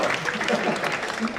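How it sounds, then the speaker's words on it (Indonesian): An audience claps steadily for a group of brothers at an indoor gathering, a dense close patter of hands with voices talking over it. "Tepuk tangan untuk brothers semua di sini."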